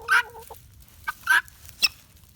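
A hen clucks in short, close bursts, three or four sharp calls spaced irregularly over a quiet outdoor background among backyard poultry.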